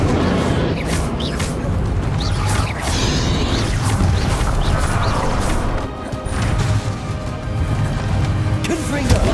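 Confringo fire-blast spells in a Hogwarts Legacy duel, heard as loud repeated smashing crashes and whooshing impacts in a dense, continuous battle din with brief swells and dips.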